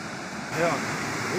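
Rushing water at Putudi waterfall gives a steady broad roar, with a brief voice rising over it partway through.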